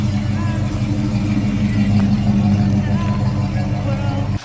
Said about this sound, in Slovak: Fú, ten bublot.